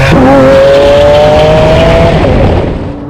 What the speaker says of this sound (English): You're riding with me in the Murci